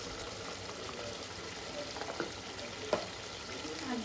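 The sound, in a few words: chicken being sautéed (kosha) in oil with black pepper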